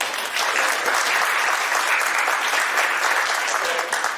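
A roomful of people at an event claps in a sustained round of applause, a thick, even patter of many hands at moderate distance with no talking over it.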